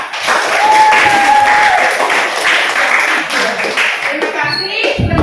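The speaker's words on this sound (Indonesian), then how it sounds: "Tepuk tangan dulu untuk kita" A grade 7A classroom breaks into steady applause lasting several seconds, many hands clapping close together, with a voice speaking faintly underneath and the clapping thinning out at the end.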